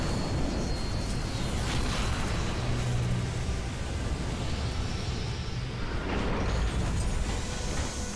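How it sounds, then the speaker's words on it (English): A blast in the Halo 4 campaign near an airlock door, a broad, loud rumbling roar that fills the whole stretch with sustained low booming and noisy crackle, no voices over it. "So let this little explosion occur there, because with no shield, you get too close of it, it will kill you"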